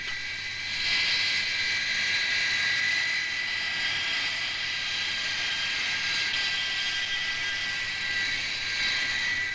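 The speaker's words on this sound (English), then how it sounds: "The graceful, comfortable Hawker Siddeley Trident." A Hawker Siddeley Trident airliner passes at the 1966 Farnborough air show, a sustained high jet whine and roar at moderate distance that swells slightly and holds steady throughout, with no talking.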